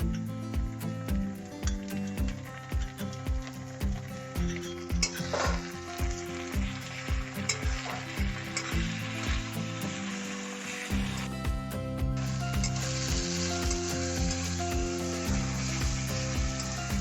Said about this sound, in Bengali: পেস্ট করে রাখা আদা ও রসুন দিয়ে ভালো করে নাড়তে হবে